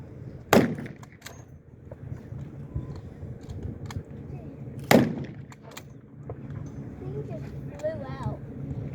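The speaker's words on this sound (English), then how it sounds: "these weapons were never designed to fire blanks" Military small arms fire blanks outdoors, two sharp loud reports several seconds apart with scattered smaller clicks and crowd noise between, and people talking in the background.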